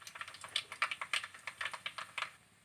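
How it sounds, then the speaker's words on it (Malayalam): Mustard seeds pop in hot coconut oil: a rapid run of sharp, close crackling clicks in quick irregular bursts, with no talking. "കടുക് പൊട്ടി കഴിഞ്ഞിട്ടുണ്ട്."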